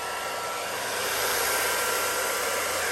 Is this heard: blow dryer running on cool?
yes